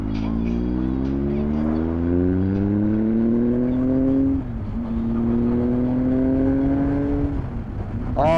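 A motorcycle with an elderly rear tyre revs and accelerates hard through the gears, its engine note climbing steadily, dropping briefly at a shift, then rising again, loud and close throughout.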